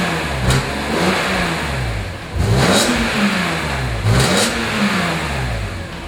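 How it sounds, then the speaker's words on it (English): A 2006 BMW M3 Coupe engine revs repeatedly, several rising and falling blips above a steady loud idle, close by with no talking. "I thought I'd go ahead and start it for you so you can hear what it sounds like."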